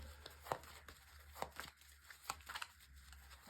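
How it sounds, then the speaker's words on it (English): Tarot cards being shuffled, giving soft irregular riffling and slapping bursts over a low steady background hum, fairly quiet and without speech. "So first of all, a good shuffle."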